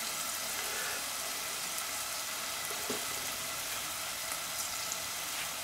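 Shallots sweat gently in a pan for a cep velouté, giving a soft, steady sizzle with a faint hiss that stays even and low throughout, with no talking.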